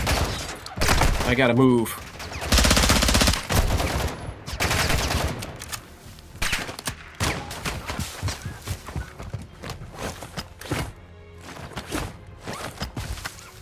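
Video game gunfire from players shooting in a zombie-mode shooter, loud bursts of rapid automatic fire and single shots in the first seconds, then scattered shots and footsteps beneath a man's speech.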